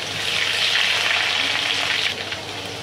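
Crushed garlic, cumin and curry leaves sizzling in hot oil for a sambar, a loud, close, continuous hiss and crackle that swells slightly midway before easing off, with nobody speaking.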